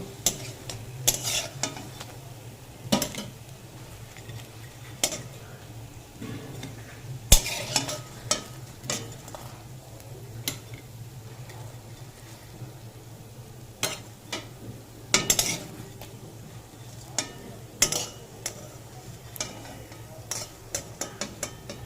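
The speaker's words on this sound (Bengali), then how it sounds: "বড়াগুলো ভালো করে লাল লাল করে ভেজে নিয়েছি এবার তুলে নেব" Prawn fritters deep-frying in oil until red: a quiet, steady bubbling hiss with a low hum, broken by scattered sharp clicks and taps of a utensil against the pan.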